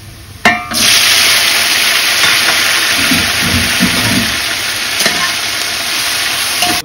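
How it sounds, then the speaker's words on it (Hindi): Tomatoes dropped into dark-browned onions for Bannu beef pulao set off a loud, continuous sizzle and frying hiss, starting with a sharp burst as they hit the hot oil and holding steady throughout. "अब मैं इसमें टमाटर डालूंगा।"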